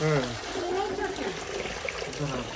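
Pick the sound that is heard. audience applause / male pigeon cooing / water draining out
water draining out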